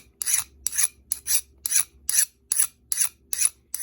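A hardness file bites into the edge of hardened steel in eight regular rasping strokes, close and crisp, each a short scrape with a brief pause before the next. No one speaks.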